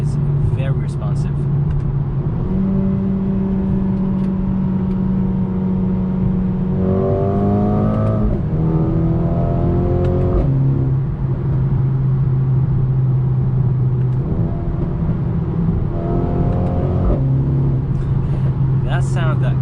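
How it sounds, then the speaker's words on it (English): A 2021 Mercedes-Benz A35 AMG with a seven-speed dual-clutch transmission in manual mode gives a loud, steady engine and exhaust drone inside the car. The revs climb in several rising sweeps with gear shifts between them. "That sound that is coming out of this exhaust is really, really nice."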